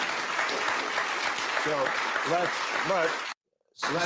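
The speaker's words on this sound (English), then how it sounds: "look at the claps" Applause from a live-stream audience, a steady broadband clatter of claps with voices talking over it, breaking off abruptly into a brief silence before resuming.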